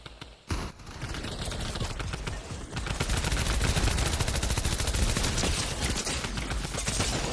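Video game gunfire from several shooters at once, with rapid overlapping automatic bursts crackling densely and loudly for several seconds after a brief quieter start.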